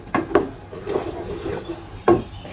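Raw mango mixture being stirred with salt in a bowl for homemade amsatta, giving a few scraping, knocking strokes at the start and end with soft rubbing in between, close by and moderately loud with no talk.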